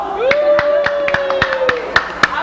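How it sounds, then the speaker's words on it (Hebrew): An audience claps hands in a steady rhythm of about a dozen sharp, close claps over a couple of seconds, with a voice talking underneath. "מה אתם מוחאים כפיים?"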